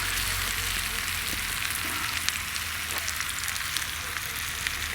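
Polish kielbasa and onions frying in a pan on a wood gas stove outdoors, giving a steady, dense sizzle and crackle with no break, close up and fairly loud.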